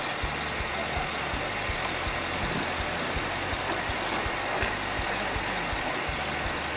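A 2010 Chevrolet Camaro SS V8 engine idles steadily, its low, even rhythmic pulse continuing nearby with broadband hiss and no talk.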